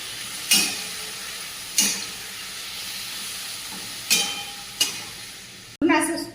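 Grated bottle gourd sautéed in ghee for halwa, a soft background sizzle broken by several sharp scraping stirs of a spoon in the pan, close and intermittent, with no speech.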